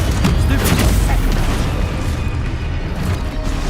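A spell blast from the Hogwarts Legacy video game fight, a loud broad boom with a burst at the start that rolls into a sustained rumbling wash of combat noise, close and dense throughout.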